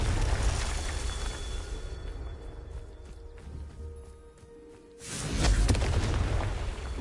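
A fire-spell blast from the game Hogwarts Legacy, a loud low booming burst that swells near the end over a rumbling background, with no talk.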